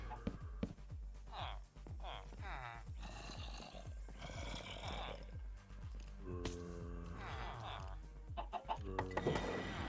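A chicken in a video game clucks in short, repeated bursts over a soft rhythmic dripping and squishing, with a person talking intermittently through it.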